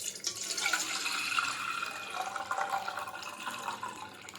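Liquid for homemade kulfi pours into a vessel, a continuous close splashing trickle that swells slightly and then eases over a few seconds.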